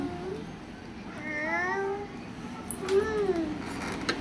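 A cat meows twice, each call a short rising-and-falling wail about a second apart, heard fairly close over a faint room background.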